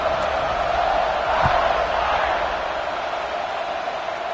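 A football stadium crowd at a Notre Dame game day roars in a steady, dense wash of cheering that fills the whole stretch evenly and never breaks.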